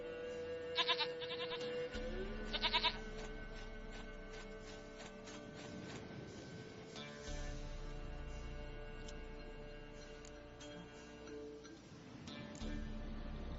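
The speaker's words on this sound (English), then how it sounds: "Goat of mine, dearest, sweetest goat." A goat in The Witcher 3 video game lets out two short, clear bleats close together near the start, then quiet game ambience with soft sustained tones follows.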